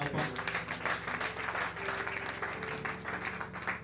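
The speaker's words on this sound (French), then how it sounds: "Acclamez d'abord très fort pour la gloire." A church congregation bursts into applause during a sermon, a dense, sustained wash of clapping with voices and music underneath, heard from within the crowd at moderate level.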